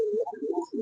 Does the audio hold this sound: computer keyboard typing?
no